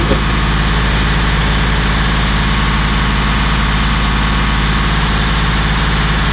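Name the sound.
Datsun 280z engine running with 4-barrel carburetor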